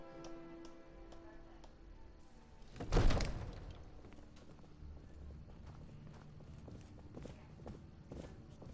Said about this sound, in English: I can hear my footsteps.